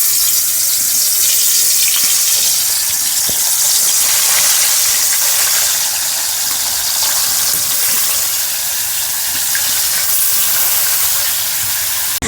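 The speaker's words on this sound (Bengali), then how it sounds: "তেল গরম হয়ে গেছে, মাছগুলো ভেজে নেব।" Fish frying in hot white oil in a home kitchen pan, a dense, steady sizzling hiss that fills the whole stretch without pause, loud and close, with no talking.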